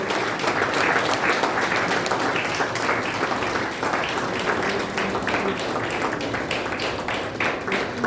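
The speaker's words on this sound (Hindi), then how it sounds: "जोरदार ताली बजाइए" Applause from the audience at an Arya Samaj Trust event, a sustained broad wash of many hands clapping at once, moderately loud and steady throughout with no speech over it.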